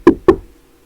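Two quick, sharp knocks of knuckles on a table, close and crisp, with a short gap between them and nothing else after.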